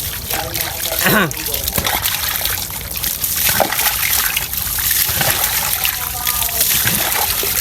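Very cold water splashes and trickles in irregular pours, as if scooped and poured over a body while bathing, with a person speaking briefly over it.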